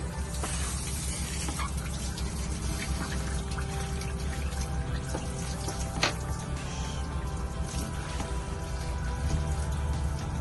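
Raw water flushing through the cooling system of a Volvo Penta inboard marine engine after running aground, a continuous close gushing and splashing flow with scattered drips and small bursts.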